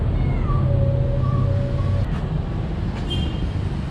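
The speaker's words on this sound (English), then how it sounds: "look at that black cat." A black cat meows several times in short tonal calls over a rumbling vehicle-like background, fairly close, with no speech.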